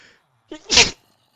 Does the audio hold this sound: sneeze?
yes